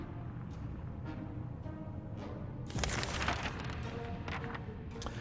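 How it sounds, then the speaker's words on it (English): Video game gunfire in 60 Seconds: sharp gunshots crack out irregularly over a steady low rumble, with a dense, louder volley of rapid fire in the middle before scattered shots resume. "Gunfire."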